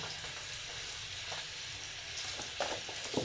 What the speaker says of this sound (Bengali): রান্নাটা কিন্তু আমি সয়াবিন তেল দিয়ে করলাম। কষায় নিচ্ছি, একটু কষায় নিতে হবে মশলাগুলো দিয়ে।